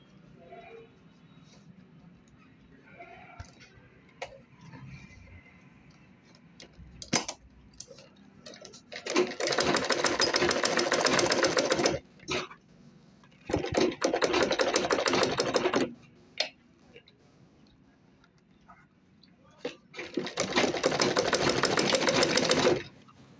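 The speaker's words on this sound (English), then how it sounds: "So I'll now sew here and sew here." A sewing machine stitches a chain-handle clutch bag in three loud, steady bursts of a few seconds each, separated by quieter pauses with faint handling clicks.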